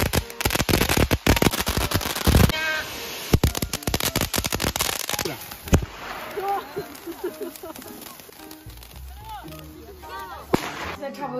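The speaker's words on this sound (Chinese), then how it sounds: "今天晚上孩子们把所有的烟花都放掉了" Fireworks go off at night as children set off the last of them, sharp bangs and crackles in dense bursts at first, then sparser pops, with people talking throughout.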